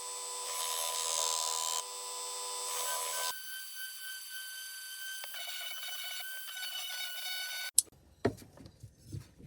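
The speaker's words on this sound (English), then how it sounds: "Now I've got sanding." Power sanding of a bird carving made from pallet wood, a steady high whirring abrasive hum that changes pitch partway through, then stops near the end, followed by a few sharp knocks and handling noises.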